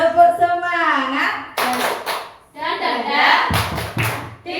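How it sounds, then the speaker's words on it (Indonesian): A group claps the rhythmic 'tepuk semangat' spirit clap at a Positive Culture training session, with a few sharp clap bursts landing amid loud chanting voices. "Tepuk semangat."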